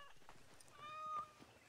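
A cat in Assassin's Creed Origins lets out a single drawn-out meow, moderately close and clear over quiet game ambience.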